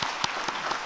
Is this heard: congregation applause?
yes